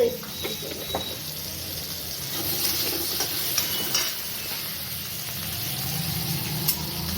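Ground ginger, garlic, cumin, coriander, Kashmiri chili, bay leaf and garam masala frying in a pan, a steady close sizzle with scraping stirring strokes and faint background voices.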